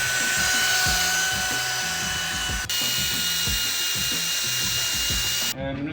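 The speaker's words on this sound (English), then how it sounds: "I'm just going to run this 3-inch wire wheel on there." A 3-inch wire wheel spins against a rusty strut knuckle during an Airlift suspension install on a 2011 Subaru STi. It makes a loud, steady, close whine and grind that runs almost without a break and cuts off near the end.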